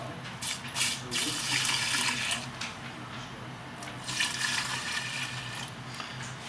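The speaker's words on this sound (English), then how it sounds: "And now I'm going to put some cold water in, as you can tell." Cold water running from a kitchen tap into a cooking pot, a steady broadband rush with slight surges, fairly close and alone without talk.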